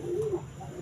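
A racing pigeon gives one short, soft, low coo up close, over a faint background hum.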